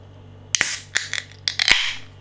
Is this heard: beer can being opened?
yes